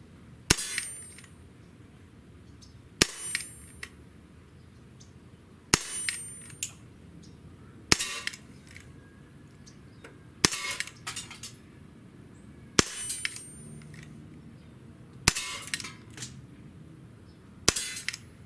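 A Heckler & Koch VP9 CO2 BB pistol, loaded with Umarex CO2 cartridges and BBs, fires eight sharp, snappy shots at roughly two-and-a-half-second intervals, each a crisp crack with a brief metallic ring, over a quiet background.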